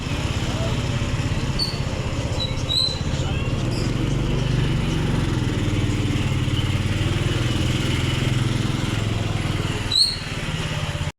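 A motorcycle engine drones steadily while riding, with wind rushing past. The low engine note holds constant throughout.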